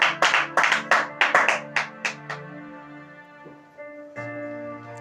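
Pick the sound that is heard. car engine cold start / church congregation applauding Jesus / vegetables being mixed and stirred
church congregation applauding Jesus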